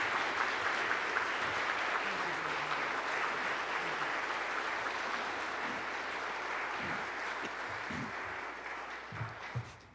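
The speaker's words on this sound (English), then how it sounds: "Please give him a hand of applause." An audience applauds a speaker being introduced at a talk on astronomy, a dense, steady wash of clapping that carries on for about ten seconds and tapers at the end, with faint voices murmuring underneath.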